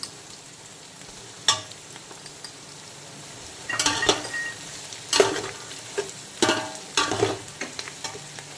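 Chopped carrot is added to a wok of oil with lightly fried beans, giving a soft steady sizzle broken by several sharp spatula scrapes and clinks as the vegetables are stirred.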